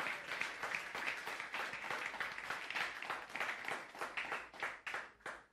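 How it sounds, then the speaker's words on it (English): A church congregation claps energetically and steadily for several seconds, a dense rhythmic applause that thins slightly toward the end. "can you clap for Jesus"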